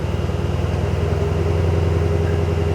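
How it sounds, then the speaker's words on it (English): A Mercedes C63 S AMG Coupe's 4-litre twin-turbo V8 rumbles steadily at idle, a deep throbbing hum held close and even throughout. "4-litre V8 in this, twin turbo, producing over 500 horsepower."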